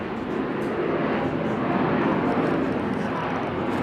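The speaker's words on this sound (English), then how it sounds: "I will actually stop when we hear the airplanes" A loud, broad jet roar of an airplane passing overhead, steady and rumbling throughout with no talking.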